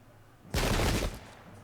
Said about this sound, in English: we have even more residual shooting going on